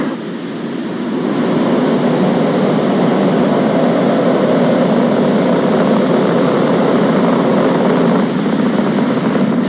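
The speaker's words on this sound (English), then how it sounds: "Ignition and liftoff" A SpaceX rocket lifts off on a Starlink satellite launch, its engines building into a loud, steady broadband roar that swells after ignition and holds unbroken.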